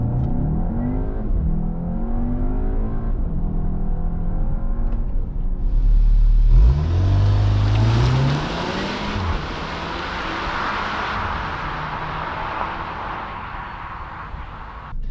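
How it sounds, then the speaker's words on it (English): Volkswagen Arteon accelerating at full throttle, heard from inside as the engine roar climbs through a gear change and then settles into a strong rising whir with road rumble, continuous and fairly loud, with no talk. "So I will just try out this acceleration, just flooring it, nothing else"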